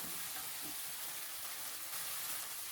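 Canned fish stir-frying in a pan with a splash of added water, giving a steady, continuous sizzle with faint scraping of stirring underneath.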